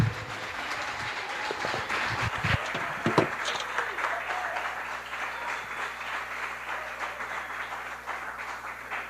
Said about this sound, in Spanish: un fuerte aplauso al pastor Fermín Marchena.